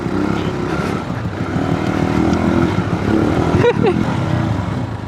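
Light Aveta Marvel 150 motorcycle modified for off-road riding, its small engine droning steadily and close throughout with a brief rev or shift near the end, a voice faintly under it.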